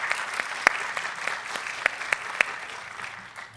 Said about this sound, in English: Let's give Elaine another round of applause.